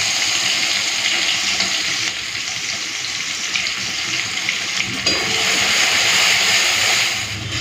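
Onion sizzling as it hits hot oil seasoned with whole garam masala spices and sugar, a steady loud hiss that swells partway through and holds.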